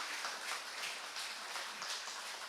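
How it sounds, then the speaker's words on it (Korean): Church congregation clapping during a Sunday worship service for a newlywed couple, a steady, soft and fairly distant wash of applause throughout. "우리 박수 한번 주시기 바랍니다."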